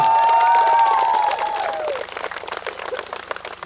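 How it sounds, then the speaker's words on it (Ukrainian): A group at a tent camp in the Triski tract in Ukraine applauds loudly, with some cheering and a whistle-like tone at the start. The clapping is dense and near, then thins and fades after about two seconds. "господареві, пану Володимирові, оплески"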